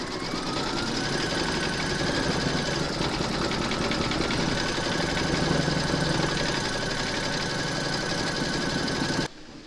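An embroidery machine stitches an in-the-hoop appliqué scarecrow, giving a close, continuous, fast mechanical chatter at an even rhythm that stops abruptly at the end.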